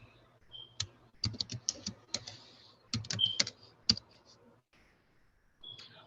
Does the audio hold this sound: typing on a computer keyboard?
yes